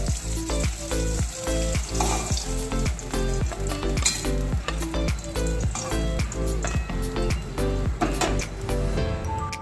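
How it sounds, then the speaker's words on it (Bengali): Fish fries in hot oil in a pan, a loud, steady sizzle with rapid crackling pops and faint repeated scraping of a spatula throughout, with no voices. "মাছটা আমার ভালোভাবে ভাজা হয়ে গেছে।"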